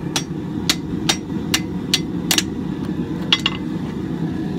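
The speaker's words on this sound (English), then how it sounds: "This is gonna be a lot of hammer work." A hammer strikes a Viking axe head forged from recycled scrap metal, about eight sharp ringing blows at an uneven pace over a steady background roar, close and loud.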